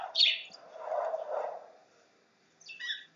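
Birds chirp outside in a few short bursts, bright high tweets at the start and end with a softer warbling call in between, fairly near and with no talking.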